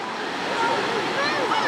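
Waves washing onto the beach at Murrays Bay, Auckland, heard as a steady, continuous surf hiss with some wind noise across the microphone.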